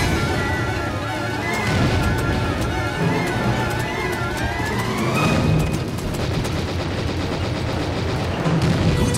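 Tank guns fire during a Kursk mission in the video game Panzer Elite Action, loud booming shots layered over a dense roar of engines and battle noise, with scattered sharp impacts throughout.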